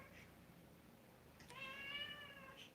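An elderly twelve-year-old black female cat gives one drawn-out, rising meow over a low background hum, fairly faint and alone.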